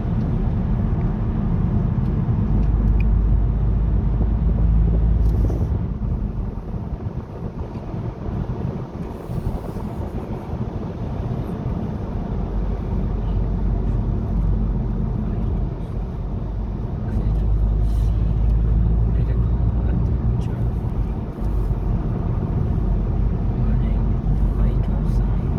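Car coasting fast down a snowy mountain road in Norway between Oslo and Bergen, a steady loud road and wind roar with low rumble throughout, while people talk over it.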